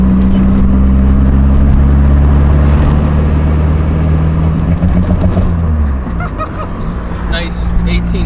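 Nissan Z32 fitted with an SR20DET engine cruising on the road, a steady low engine drone with tonal hum throughout, dipping and shifting near the end as the revs change.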